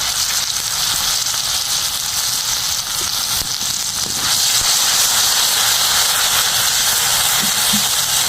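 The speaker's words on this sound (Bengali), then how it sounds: "এই তেলের মধ্যে এই বেটে রাখা সরষেটা দিয়ে দেবো" Ground mustard paste sizzles in hot oil while a Bengali koi fish horogouri is cooked: a loud, steady, close hiss of frying runs throughout, and a few faint clinks sound near the end.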